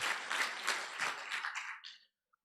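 Audience applause at a symposium after a professor's talk, a crowd clapping in a brief, fairly faint burst that tapers off and stops abruptly, followed by near silence.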